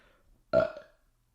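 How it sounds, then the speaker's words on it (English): A man lets out a single loud, throaty burp close to the mic, lasting about half a second and fading out, with near silence before and after. "That was a fart that I held in since this morning, and it came out as a burp"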